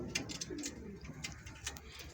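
Pet pigeons coo softly in a home loft, a few low rolling coos close by, mixed with light ticking and clicking sounds.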